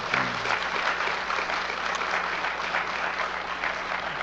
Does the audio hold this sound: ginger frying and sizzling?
no